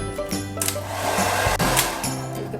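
A hair dryer on its hot setting blows a loud, continuous rushing hiss, used close up to set hand-made wavy hair, its pitch wavering slightly as it is moved.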